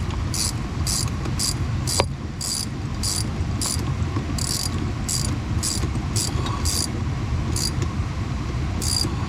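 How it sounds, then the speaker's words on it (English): An Allen key tightens a Hansshaw screen rotation kit, giving a string of short, crisp metallic clicks at an uneven pace. The clicks sit close over a low background hum, with one sharper tick partway through. "Use Allen key to tighten it up"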